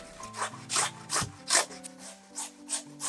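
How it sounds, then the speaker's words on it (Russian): A large raw potato is rubbed over a coarse grater for potato pancakes, giving about seven rhythmic rasping strokes, close and fairly loud, under a soft musical background. "Берем одну большую крупную картофелину и натираем на крупной терке."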